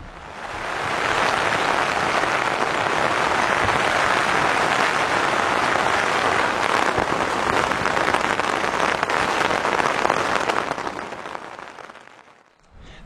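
Heavy rain from a night thunderstorm makes a dense, steady hiss and patter that holds loud and even before fading briefly near the end, with no voices.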